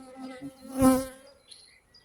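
A honeybee buzzes close by at an opened hive for a moment, its drone swelling and fading, with a faint low hum of other bees around it.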